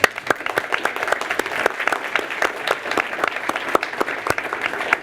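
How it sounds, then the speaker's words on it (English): Audience applause at a city council meeting, many people clapping in a brisk, scattered patter that stays even and fairly close for several seconds. "One more round of applause."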